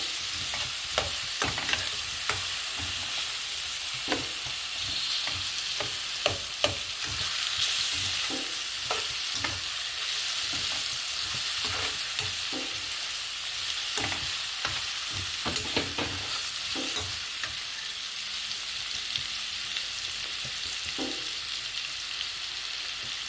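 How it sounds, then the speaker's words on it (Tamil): Onions sautéing in a pan, a steady broadband sizzle running throughout with frequent sharp scrapes and clicks of a stirring spoon against the pan, close and continuous without any talk. "நல்லா வெங்காயம் வதங்கிக்கிட்டு இருக்குது"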